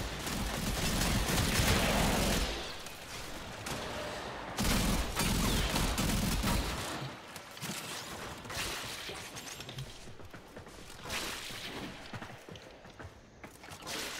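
Heavy gunfire in Warframe blasts machines and spare parts, with dense bursts of rapid shots and crashing impacts, loud at first, then easing into choppier volleys and mechanical clatter.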